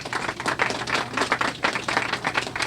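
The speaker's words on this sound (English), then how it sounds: "So if we can just give another hand of applause for that." Audience clapping at a healthy corner store grand opening, a steady patter of many hands at moderate loudness with no voices over it.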